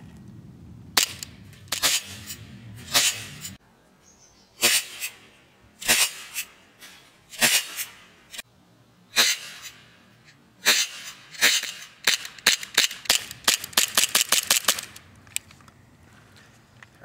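An Elite Force 1911 airsoft blowback pistol fires a series of sharp, snappy shots up close, spaced out at first and then a fast cluster of rapid shots before the firing stops.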